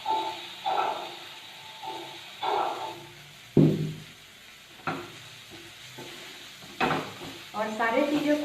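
A spatula repeatedly scrapes and clanks against a pan as ingredients with turmeric are stir-fried over a low gas flame, with soft sizzling between the rhythmic stirring strokes, close and moderately loud.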